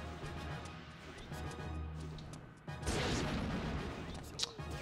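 Bomb explosions in the One Piece Unlimited World Red arena mode: a sudden loud blast erupts midway and rumbles on, followed by a sharp crack near the end, with game noise and a voice underneath.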